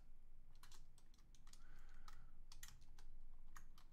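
Rapid typing on a computer keyboard while placeholder flashcards are entered, with irregular bursts of close key clicks and a few sharper keystrokes over a steady low background hum.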